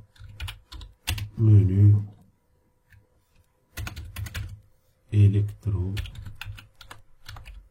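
Someone types a label name on a computer keyboard, producing bursts of quick clicking keystrokes separated by pauses, with a person speaking over parts of the typing.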